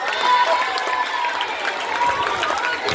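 Applause from a school audience at a Yoruba language program at Apata Grammar School, a dense steady patter of many hands for about three seconds, moderately distant, with no other voices over it.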